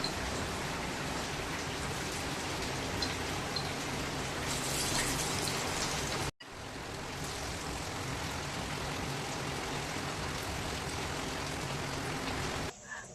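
Heavy rain pours steadily in a dense, even hiss, briefly cutting out midway before resuming at the same strength.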